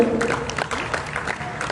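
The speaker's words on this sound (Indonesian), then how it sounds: "Boleh kita berikan tepuk tangan terlebih dahulu." Brief, fairly faint applause from a crowd at a World Dance Day event in Surakarta, scattered claps rising over a murmur of voices.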